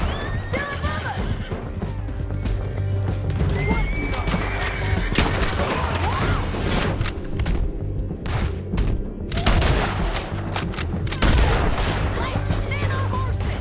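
Horses whinny and hooves clatter during a chaotic mounted gunfight in Red Dead Redemption 2, with gunshots and shouting layered over a dense, loud mix.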